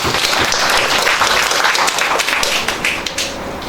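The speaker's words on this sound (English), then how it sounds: "Can you guys give him a hand of applause?" Loud, dense applause from a crowd at a welfare group launch event in Dubai, with a few sharp individual claps standing out as it continues steadily and eases slightly at the end.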